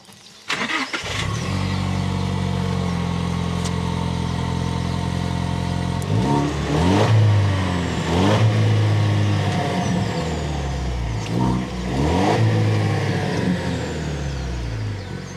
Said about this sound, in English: we did want to show you guys what the Sport exhaust sounds like